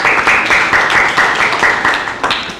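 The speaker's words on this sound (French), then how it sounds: "Les applaudissements." Audience applause at a book dedication ceremony in Diourbel, a steady dense clapping from a crowd that stays loud throughout with no voices over it.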